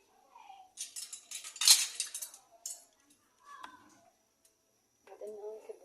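A pan and metal utensils clink and scrape close by while cooking oil goes in, bright short knocks in small bursts with a person talking between them.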